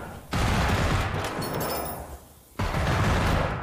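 Gunfire in Generation Zero: sustained loud automatic bursts rattle continuously, break off briefly in a quieter lull, then start again at full intensity.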